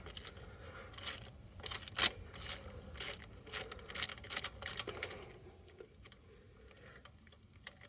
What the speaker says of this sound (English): let's have these spark plugs out as well